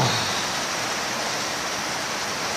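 Rainwater pours into a workshop on a rainy day, a dense, steady rushing hiss of flowing water, close and constant with no breaks.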